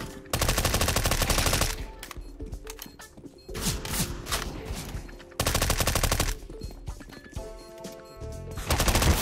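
Rapid automatic gunfire in Counter-Strike: Global Offensive on the Overpass map, loud bursts of repeated shots with brief pauses between volleys, no talking.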